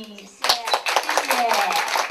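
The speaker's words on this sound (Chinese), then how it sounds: "掌声" Audience applause at a property tax press conference, a short burst of scattered hand clapping rising suddenly after a brief moment of talk and continuing steadily to the end.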